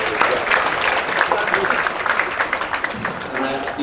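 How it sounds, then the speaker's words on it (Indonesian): Lively applause from a gathered audience at the opening of a literature library in Jakarta, a dense steady patter of many hands with some voices mixed in, carrying on throughout. "kita berikan tepuk tangan yang meriah"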